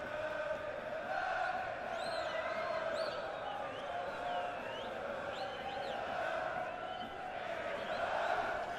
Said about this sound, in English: I love the cheer from the crowd.